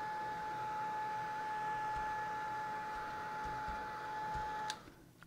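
A steady whirring drone from a heat tool drying ink on an art journal page, holding a constant tone for several seconds before switching off, with a faint click at the end.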